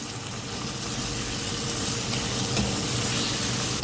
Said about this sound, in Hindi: भूनेंगे मसालों को।